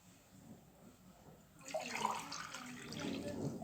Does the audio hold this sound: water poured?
yes